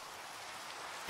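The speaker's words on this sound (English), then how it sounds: "It's raining for the first time." Rain falling in Minecraft, a soft, steady patter with no voices, heard for about a second.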